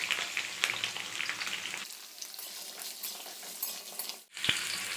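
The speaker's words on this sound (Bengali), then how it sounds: "এবার এটাকে ভাজা ভাজা করে নেব।" Long-cut potato strips fry in hot oil with a bay leaf, giving a steady crackling sizzle that softens partway through. Brief stirring scrapes can be heard, and a short dip in sound is followed by renewed frying.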